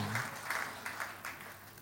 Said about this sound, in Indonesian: sekali lagi kita berikan tepuk tangan yang meriah bagi Allah kita